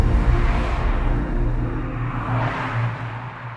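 A Jaguar XE R Sport sedan with an aluminum body cruises along, its engine and road noise forming a steady, moderately loud drone with slight swells.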